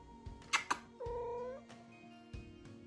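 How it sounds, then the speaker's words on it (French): A house cat lets out a couple of drawn-out meows close by, with short clicks and rustles around them in a quiet room. "Voici mon chat"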